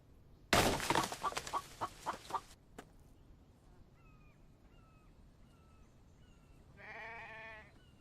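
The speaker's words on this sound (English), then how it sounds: "That was a sheep." Sheep bleating in the survival video game The Infected, a short nasal bleat near the end after a loud burst of rapid clucking and flapping, with faint chirps in the quiet background.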